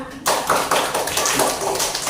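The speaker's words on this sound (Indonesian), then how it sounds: "Tepuk tangan dulu untuk semuanya." A classroom group applauds everyone, with a burst of dense, sustained clapping that starts abruptly and continues at a steady, loud level throughout.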